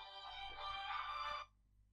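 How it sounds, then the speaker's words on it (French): Electronic ringtone from a telephone chiming in a quiet room, a short bright melodic ring lasting over a second before cutting off abruptly. "Téléphone"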